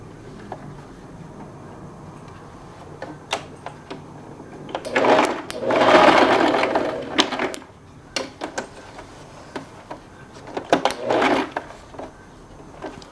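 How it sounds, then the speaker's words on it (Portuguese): A sewing machine topstitching around the edge of a blouse whirs in one main burst of a few seconds, with scattered clicks and fabric handling sounds before and after. "E vai costurar fazendo pesponto em toda a sua peça."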